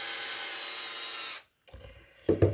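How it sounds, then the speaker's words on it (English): A motor-driven buffer works coarse compound into a guitar finish: a steady, even whirr for over a second that cuts off abruptly, followed by quieter handling rubs and a couple of louder scuffs. "I'm buffing this out with coarse buffing"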